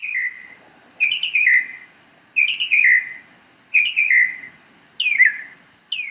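Birds chirping and calling, a recording played from a touch panel at a trail workshop, with clear bright bursts of song repeating about every second and a half over a quiet background.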